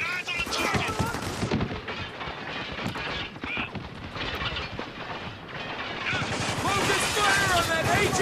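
Rapid bursts of machine-gun and rifle fire in a military shooter video game, with loud crackling volleys nearly throughout under shouted in-game voices and radio chatter.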